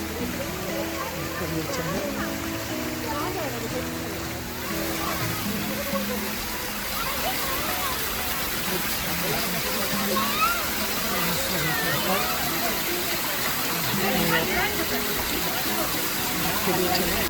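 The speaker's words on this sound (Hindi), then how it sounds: "लहासा वाटरफॉल का नज़ारा हमने आपको दिखाया" Lhasa Waterfall near Gangtok sends up a steady, dense rush of falling water that fills the scene and stays unbroken throughout.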